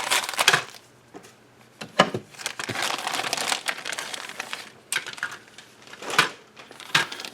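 Plastic sprues from an Airfix 1:72 Boulton Paul Defiant Mk.1 kit are handled close by, giving scattered crinkling and clattering rustles with several sharper clicks, fairly quiet overall.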